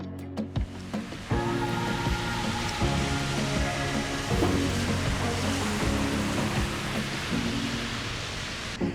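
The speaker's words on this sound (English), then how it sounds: "It's raining again now." Steady, dense rain hisses, with a faint low hum underneath and a few sharp taps near the start.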